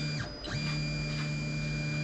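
An Anycubic i3 Mega S 3D printer runs with its stepper motors whining steadily, the pitch sweeping briefly down and back up near the start, quiet and close with no voices.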